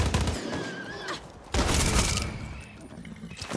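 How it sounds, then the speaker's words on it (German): Gunfire in the video game Far Cry 6: two dense bursts of rapid shots, the second louder and sustained, close and busy with no voices over it. "So, warum schießen die alle jetzt?"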